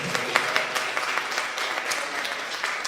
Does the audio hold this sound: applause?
yes